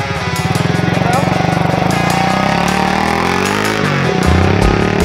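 The 200HP engine of a Can-Am off-road vehicle revs close by with a buzzing, harmonic-rich note, its pitch climbing and dropping before a throaty burst at the end.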